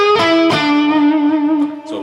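A Gibson Les Paul electric guitar played through distortion with the tone knob turned up to 10, giving two picked attacks that ring into a bright, sustained, harmonically rich note, loud and close.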